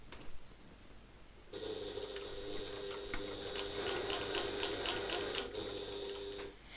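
A sewing machine runs steadily for about five seconds while sewing a satchel, a close, even mechanical whir with rapid repeated clicking of the needle, starting after a brief quiet lead-in.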